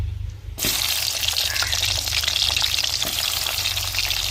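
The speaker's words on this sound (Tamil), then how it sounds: "கடுகு போட்டுக்கிறோம் வெட்டி வச்ச வெங்காயத்தையும் சேர்த்துக்கிறோம்" Mustard seeds and chopped onion drop into a hot pan and break into a loud, steady sizzle that fills the rest of the clip. Brief quiet comes first, with no talking.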